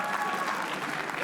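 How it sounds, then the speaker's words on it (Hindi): A comedy roast audience breaks into steady, dense applause, a brief burst of many hands clapping together at moderate loudness with no pauses. "एक संतानी के लिए तालियां प्लीज"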